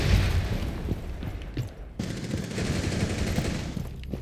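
Bursts of rapid gunfire and booms from a shooter video game crackle densely through the whole stretch, loud and close with a brief dip midway.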